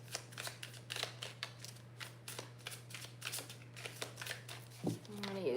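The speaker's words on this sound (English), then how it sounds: "Just going to give them a shuffle real quick." A tarot deck is shuffled by hand in a steady run of crisp card riffles and flicks close to the mic over a low hum, with a brief vocal sound near the end.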